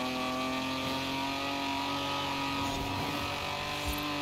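Car engine in a racing video game, a steady loud drone with sustained harmonic whine while the car drifts, continuous throughout.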